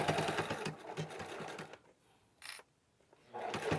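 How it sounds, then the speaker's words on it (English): A sewing machine stitches an oven dress towel in fast bursts, running steadily, stopping, then giving a short spurt and restarting, close and without talk. "We're gonna sew this on nice and"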